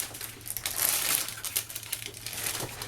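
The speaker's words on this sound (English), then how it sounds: "I'm just literally trimming up the bag" Plastic piping bag for Biscoff cupcakes being trimmed for the nozzle, close crinkling and crackling of the plastic with small snips and rustles, soft and irregular.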